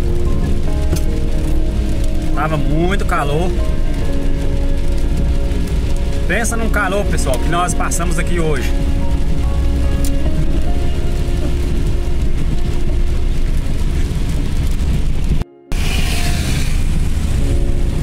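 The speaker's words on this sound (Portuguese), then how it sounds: "E a chuva aqui tá forte" Heavy rain pours steadily during a hot day, a dense constant wash that runs through the whole stretch while someone talks over it.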